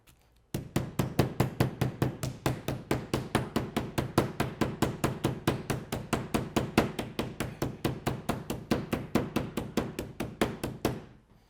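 Steady, rapid pounding of a mallet on meat, dozens of evenly spaced thuds against a board, close and continuous for about ten seconds.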